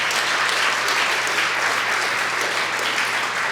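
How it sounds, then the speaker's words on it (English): A dense, steady wash of applause fills an evening regional chamber of commerce gala as the audience claps for the sponsors, loud and continuous without pause. "please join me in one final round of applause for all of our sponsors tonight"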